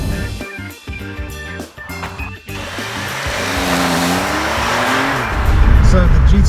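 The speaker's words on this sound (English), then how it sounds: "So the GTS is lovely, it's quiet, it's smooth, it's comfortable, the suspension is relatively soft" A Porsche 992 GTS sports car drives by, its engine note rising into a smooth, steady roar with tyre and road noise, loud and close, while someone talks over it at first.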